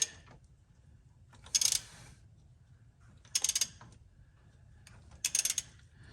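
A socket ratchet tightening an oil pressure switch with a 1 1/16-inch socket on a 2006 Jeep Commander Limited 5.7 L Hemi, three short, close clicking bursts separated by quiet pauses.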